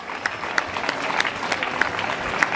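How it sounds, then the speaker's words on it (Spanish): A crowd at a race awards ceremony applauds steadily, scattered claps forming a continuous patter with a few sharper claps standing out, at moderate distance. "Fuerte aplauso para María."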